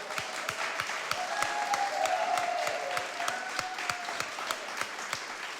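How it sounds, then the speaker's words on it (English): An audience gives a round of applause at a community event, many hands clapping in a steady, moderately loud wash with sharp individual claps standing out, sustained throughout. "If we can give Mary a round of applause."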